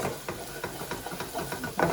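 Garlic being stirred in a pan, quick repeated scraping and clicking strokes of a utensil over a soft sizzle, close and fairly loud, ending in a stronger rustling scrape.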